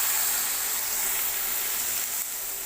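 Water poured into a pan of frying cauliflower sends up a loud, continuous hiss of steam and sizzle, close and unbroken throughout.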